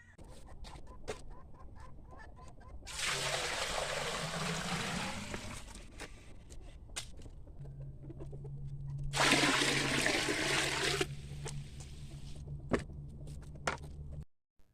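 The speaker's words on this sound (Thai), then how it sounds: "เดี๋ยวเราจะใส่น้ำไว้เกือบเต็มก่อนนะครับ" Water pours into a large jar, about 45 litres, in two bursts of gushing splashing, each lasting a few seconds, with quieter clicks and a faint steady tone between them.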